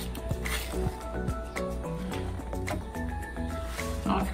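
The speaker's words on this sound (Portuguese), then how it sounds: "Untei aqui uma forma e vou despejar a massa." Thick vegan cake batter pours and plops into a greased baking pan, with wet squishing and dripping sounds close up, continuous and without speech.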